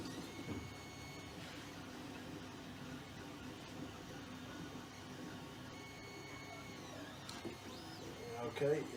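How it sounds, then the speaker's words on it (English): An Alfawise U30 3D printer printing a Benchy, giving a steady, continuous mechanical whir and hum with faint tonal motor whines, moderately close and unbroken for the whole stretch. "it started printing the Benchy. I'm just concerned at the way it's moving at the moment."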